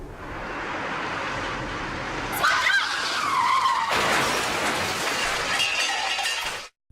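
In a movie scene, a car skids loudly with screeching tires, then crashes with a burst of shattering glass and crunching impact that fades into debris noise before cutting off abruptly.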